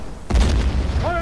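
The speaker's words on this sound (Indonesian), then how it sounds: "keributan segera terjadi begitu ada seorang prajurit yang menginjak ranjau." A landmine blast effect: a sudden deep boom erupts after a brief lull and rumbles on loudly, with a brief tonal sound near the end.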